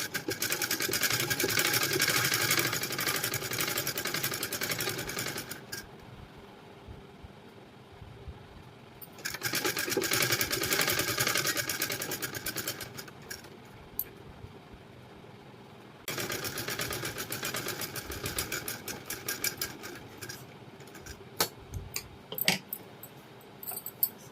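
A sewing machine stitches the neckline of a blouse in three long, steady whirring runs, broken by short pauses. Faint clicks and fabric handling fill the gaps, and there is no speech.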